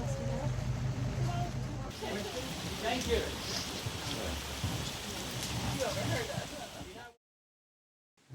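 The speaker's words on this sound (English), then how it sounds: "The rain has generally followed us through our trip in Australia, but in all fairness, we are in rainforest here." Steady rain falls in the Queensland rainforest near the Daintree River, a dense, continuous patter with scattered drops and a low rumble underneath that cuts off sharply near the end.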